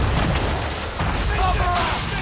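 Ship cannons in Assassin's Creed III fire in a heavy booming volley at sea, loud and rumbling, with shouted orders from the crew mixed in.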